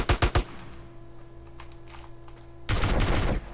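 Gunfire at an alien in GTA San Andreas: a quick burst of rapid shots, a lull filled with a low hum, then a second dense volley of rapid fire.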